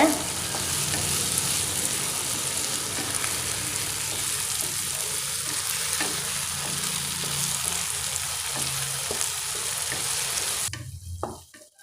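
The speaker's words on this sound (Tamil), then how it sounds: "வெங்காயம் தக்காளிக்கு தேவையான உப்பு சேர்த்துக்கலாம் எல்லாத்தையும் நல்லா வதக்கிக்கோங்க" Onions and tomatoes sizzle steadily with salt in a hot pan while cooking prawn thokku, with occasional stirring scrapes, close and continuous before the sound cuts off at the end.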